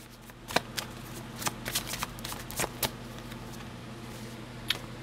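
A slow, steady tarot card shuffle, close and fairly quiet, with soft continuous rustling broken by sharp irregular card snaps and a low steady hum underneath.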